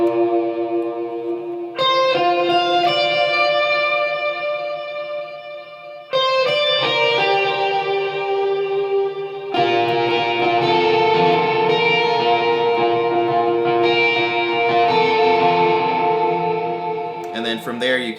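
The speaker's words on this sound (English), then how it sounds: "So I'm going to show you what that sounds like with effects." Electric guitar run through effects units with distortion, echo and reverb, ringing sustained chords and riffs from a worship song, played loud and alone with long washed-out tails between changes.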